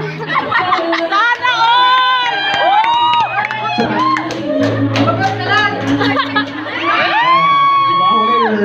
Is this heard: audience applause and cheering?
yes